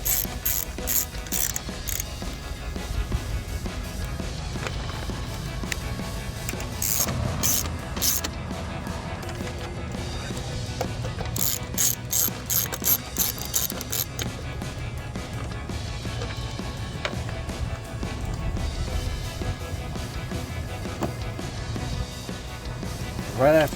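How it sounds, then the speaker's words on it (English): A hand ratchet clicking as it tightens 10mm bolts on a 2021-2023 Ford F-150 LED headlight install, giving repeated rapid bursts of ratcheting among mechanical creaks and clanks, close by, with someone talking at times. "next we're gonna come reinstall our 4 10mm bolts here at the top."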